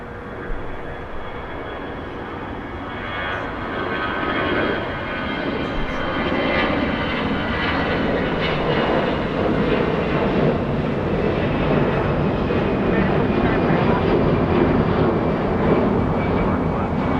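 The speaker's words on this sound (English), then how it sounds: "Alaska 458 heading down south. That's an A320." An Alaska Airlines Airbus A320 jet at Los Angeles International Airport roars steadily, its engine noise building slightly after the first few seconds and then holding loud with a faint whine on top.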